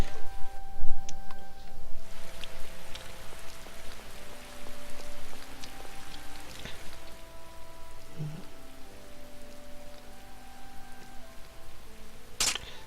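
Steady rainfall patters through a scene in the video game Tales of Vesperia, a soft continuous hiss under musical tones and occasional game effects.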